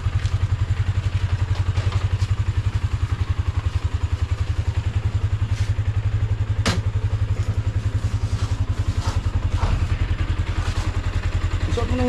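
A motorcycle engine runs close and loud with a steady, even pulsing throb throughout, broken once by a sharp clack partway through.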